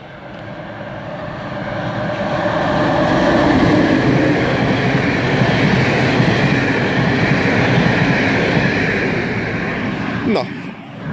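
A suburban train rolls into Üllő station in Hungary, its rumble building and then holding steady, with clattering wheels and a faint high squeal near the end.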